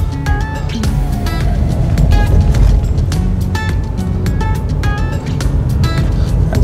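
A car driving slowly through a residential street on Staten Island, a loud, steady rumble of road and engine noise up close, with frequent small clicks and rattles.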